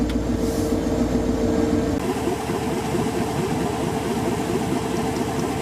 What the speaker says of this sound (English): She's pretty quiet there right now when she's just idling and warm, nice and quiet.